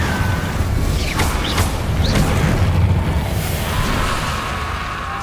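Fiery spell blasts in Hogwarts Legacy, the Incendio fire charm, with a deep booming roar and a few sharp whooshing bursts over a continuous rumbling game soundscape.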